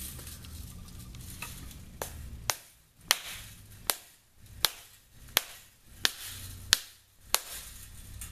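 Pounding on the inside edge of an aluminum wire tree, about ten sharp metallic taps at a steady, roughly even pace, close and clear, with faint background noise and no talking.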